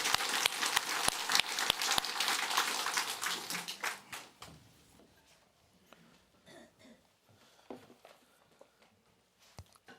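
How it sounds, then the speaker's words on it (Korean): A church congregation at a Sunday worship service bursts into loud, brisk clapping that thins out after about four seconds, leaving scattered rustles, a few coughs and isolated claps. "다시 한번 하나님께 영광의 박수 올려드립시다."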